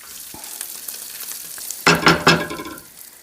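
Chorizo cooking in a pan, with a faint low sizzle at first, then a louder burst of crackling and scraping as the meat is stirred, close by and with no voices.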